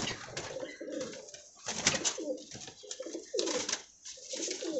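Pigeons coo repeatedly inside a cage where a few females are sitting on eggs. Several birds make overlapping soft, throaty calls at a steady level throughout, and no one speaks.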